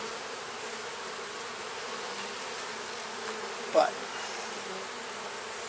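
Honey bees at an open hive, a late-season split from 2020 opened for its first check in 2021, hum in a steady, close drone, with a brief voice cutting in near the end.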